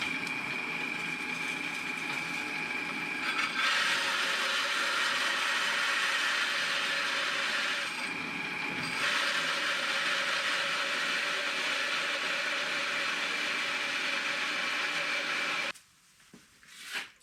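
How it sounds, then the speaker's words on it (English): A drill drives a 48mm hole saw through 12mm plywood, a loud, steady grinding whine that holds with a brief dip midway, then cuts off near the end. "We're going to take a hole saw. This one is 48mm diameter."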